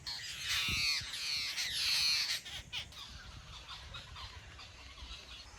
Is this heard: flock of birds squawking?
yes